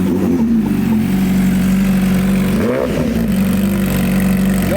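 A hyper naked motorcycle, the Nurburgring RR edition, runs close and loud, its engine holding a steady throbbing note with one quick blip of revs partway through, without anyone talking.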